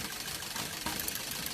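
Maruti Swift Dzire running on CNG idles with a misfire, giving a steady, noisy engine drone with faint irregular knocks, close up and without talk.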